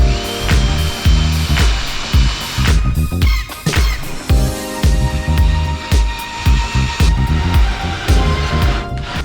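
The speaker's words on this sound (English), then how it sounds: "I will be able to put here, like a cordless screwdriver and just bring up and down the leg for the jack" A cordless screwdriver drives the crank of a stabilizer jack leg on a cargo trailer camper conversion, whirring loudly in a rapid pulsing rhythm with brief pauses and mechanical clatter, close by.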